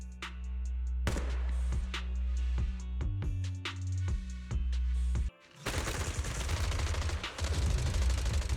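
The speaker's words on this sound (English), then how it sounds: "Gunfire? This pattern. Suppressive marching fire." Suppressive marching fire in the video game Zenless Zone Zero: a series of sharp, loud gunshots cracks over a low humming drone, then a dense burst of rapid fire takes over near the end.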